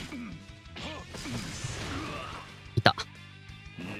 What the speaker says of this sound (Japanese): あーやべえ、シールド割れた。